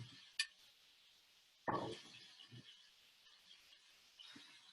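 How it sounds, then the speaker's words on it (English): A plate lifted from a kitchen shelf: a sharp ceramic clink, then a louder clattering knock as it is set down, with a few soft handling taps in a quiet kitchen. "So I'm just going to grab a plate from up here."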